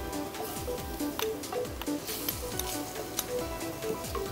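Small boneless chicken pieces sizzle steadily in curry in a pan, a continuous close frying hiss with faint stirring scrapes, no talking.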